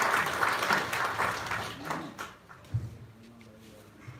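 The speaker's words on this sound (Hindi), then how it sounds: "एक दूसरे के स्वागत में जोरदार तालियां बजाकर अभिनंदन करना" Audience applause at a cooperative housing federation meeting, a dense burst of clapping for about two seconds that fades out, followed by scattered voices and murmuring.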